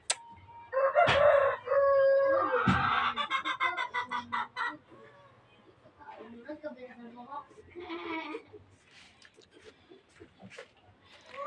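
A rooster crows loudly nearby, followed by scattered clucking from several chickens, with a person talking in between.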